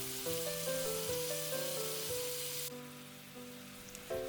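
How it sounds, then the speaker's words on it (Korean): Duji Pork sausages brushed with barbecue sauce sizzle while grilling, a steady close hiss that fades partway through, with background music playing over it. "붓을 이용해 소시지에 남겨두었던 바베큐 소스 살살 발라 구워주면 완성이에요"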